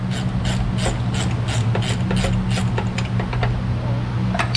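A hand ratchet backs out long bolts on a Dodge rear axle, a rapid series of sharp clicking strokes in a steady rhythm over a constant low background hum.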